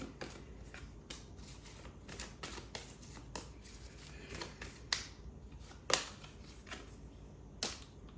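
Tarot cards are handled and shuffled in a quiet room, giving irregular sharp snaps and crisp clicks against a soft rustle. The sounds are close and scattered over several seconds, with no talking.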